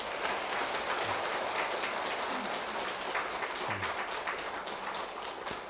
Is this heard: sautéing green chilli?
no